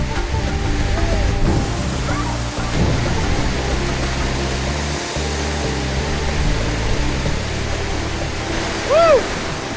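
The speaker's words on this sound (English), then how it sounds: "It is so forceful underneath that waterfall" A forceful waterfall at the Siem Reap River headwaters roars as a steady, loud broadband rush that fills the whole scene, with a brief whoop of voice rising near the end.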